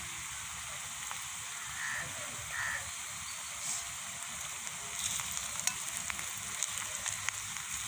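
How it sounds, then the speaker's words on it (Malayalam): Steady frying sizzle and hiss from a miniature pan of oil, holding at an even level throughout, with small scrapes and clicks of stirring toward the end. "അപ്പോൾ അത് നല്ലോണം കിടന്ന് മൊരിയണം."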